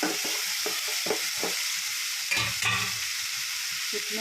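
Tomato, garlic and curry leaves fry in hot oil for a coriander, mint and sesame pickle. A steady, close sizzle hisses throughout, with a few soft stirring scrapes and no talk.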